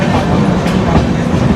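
The Konark Express train rolls slowly near Vijayawada, giving a steady, close rumble of wheels and carriages with a faint clickety-clack running through the whole stretch, and no voices.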